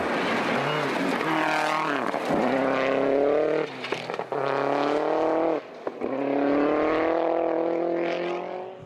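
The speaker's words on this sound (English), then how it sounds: "Andrew Hawksworth sliding into the top 5 in the Mazda 2." A Mazda 2 rally car races flat out along a gravel stage in the 2016 New Zealand Rally Championship in Otago. Its engine revs high and rises and falls through gear changes, close and loud, with brief lifts off the throttle.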